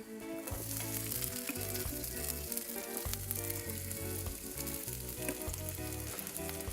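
Garlic, pepper and onion sizzle steadily in a non-stick frying pan without added grease, a constant close hiss that runs the whole time beneath background music.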